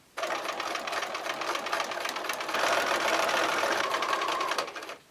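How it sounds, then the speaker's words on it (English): A sewing machine stitches a paper-pieced quilt block, running in one continuous loud rapid whir that starts abruptly, speeds up slightly midway and stops just before the end. "If you can follow this fold, I'll start sewing right here."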